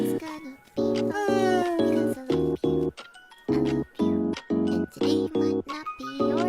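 A cat meows repeatedly at close range, a rapid string of short, insistent cries with brief gaps between them.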